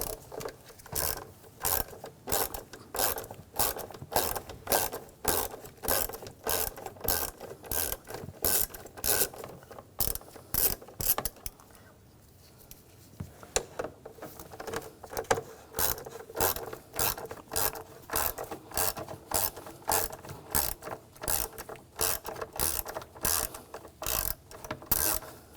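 A ratchet fitted with a 5mm hex socket backs out screws on a 2007-2013 BMW X5 3.0L L6, giving steady rapid clicking strokes close up, with one brief pause midway before the ratcheting resumes.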